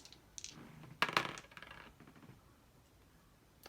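Two red dice rattle and clatter onto a tabletop during a Street Masters board game, a short bright burst of knocks with a few lighter taps trailing off, close and alone.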